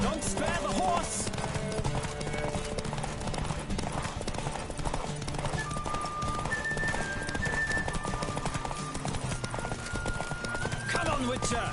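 A galloping horse in The Witcher 3 gives a continuous clip-clop of hooves at close range, accompanied by neighing, game music and spoken voices layered above.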